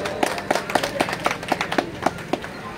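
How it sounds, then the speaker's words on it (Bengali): Audience at a ceremony clapping in a brief, moderately loud burst of scattered handclaps with a loosely regular rhythm, a little faint murmur beneath. "সকলে একটু হাততালি।"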